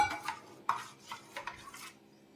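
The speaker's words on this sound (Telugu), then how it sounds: "ఇవి బాగా కలిపేసుకోవాలి, దీనిలోకి కలిసిపోయేటట్టు" Soaked sabja seeds being stirred into muskmelon juice, quick light spoon scrapes and clinks against the container in a short run of strokes, close and fairly quiet.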